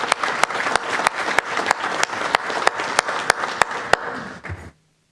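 Audience applause at a board of education meeting, a crowd clapping steadily with sharp regular claps standing out up close, ending abruptly after nearly five seconds.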